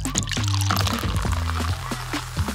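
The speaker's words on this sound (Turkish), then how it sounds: "Bu güzel bardağın içine dökeceğim." Fizzy drink poured into a glass: a close, continuous glugging pour with bubbling gurgles, tapering off into brief fizzing splashes at the end.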